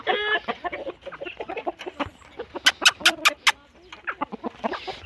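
Aseel rooster on a farm giving a run of clucks and calls, with a burst of four sharp, loud calls in the middle, close by among other fowl noises.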